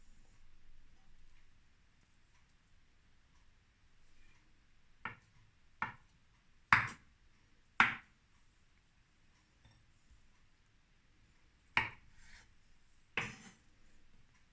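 A knife cuts boiled eggs into cubes for a mayonnaise-horseradish salad with pineapple, heard as a handful of sharp, separate taps and scrapes on a board, close and clear over a quiet background.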